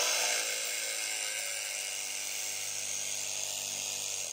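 A cheap portable pressure washer made in China sprays steadily, giving a loud, continuous broadband hiss over a low motor hum that holds without a break.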